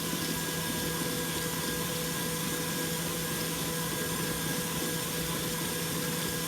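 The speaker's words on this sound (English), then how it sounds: "So now that's combined, I'm going to turn my mixer up." An electric mixer runs at high speed through cupcake batter with a loud, steady, unbroken whir, close by, with no voices.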